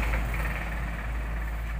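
A Yamaha Aerox 155 scooter engine idles low and rough with a low-idle fault, a steady close rumble with no talk.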